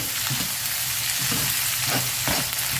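Onion, green chili and ginger sizzle steadily in hot oil during a South Indian tempering with mustard seeds and lentils, a constant close frying hiss broken by a few stirring scrapes.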